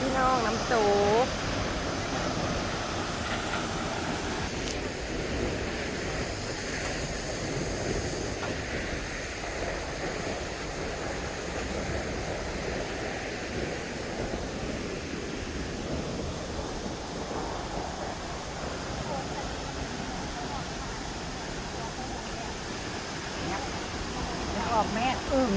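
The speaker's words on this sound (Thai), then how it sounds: "เป็นพี่น้องน้ำตก" Steady broadband rush of a waterfall fills the whole stretch, loud and continuous with a wind-like hiss, and only faint traces of other sounds on top.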